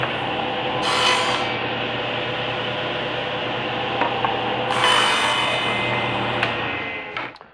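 A table saw cuts quarter-inch plywood in passes: a steady motor hum runs underneath, and two harsh, hissing bursts of blade through wood rise sharply, one early and one later.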